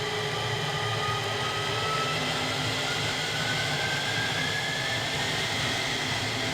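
An F-16D Fighting Falcon jet engine spools up in a flight simulator game as a steady, dense roar with a thin whine running through it. The sound holds constant and loud throughout, with no voices.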